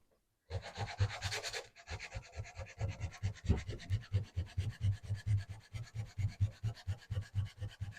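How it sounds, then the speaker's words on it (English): Wooden dowel being sanded by hand, a steady run of rhythmic rubbing strokes close by, loud and even, after a brief harsher scratchy burst at the start; no talking. "a little sanding will take care of the rest of it"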